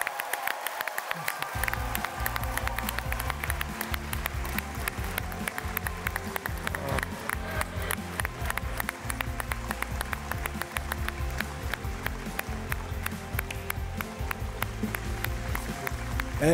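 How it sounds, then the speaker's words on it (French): Studio audience applause on The Voice Afrique Francophone, a dense steady clatter of clapping that runs the whole stretch under loud music with a low pulsing beat. "applaudissez ce trio"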